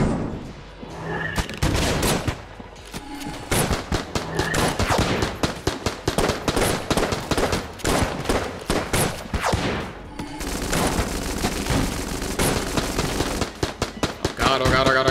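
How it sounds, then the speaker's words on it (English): A shotgun firing crossbow bolts in the roguelike shooter Enter the Gungeon, dense rapid volleys of game gunfire with sharp repeated cracks and brief pauses, layered over background game music throughout. "It totally does shoot crossbow bolts in a shotgun."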